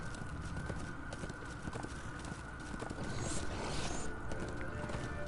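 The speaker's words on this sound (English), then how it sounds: "Just let me ride my horse out of here." Horse hooves clip-clopping at a steady riding pace in Darksiders 2, a dense run of hoofbeats with a galloping rhythm over a constant game ambience.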